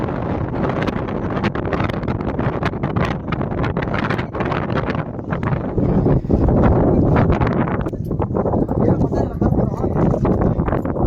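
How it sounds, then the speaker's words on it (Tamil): Strong wind buffets the microphone at the summit of the Parvathamalai hilltop temple, a loud continuous roar with rumbling gusts throughout. "மலைக்கோயிலோட உச்சியில் சரியான காற்றுங்க"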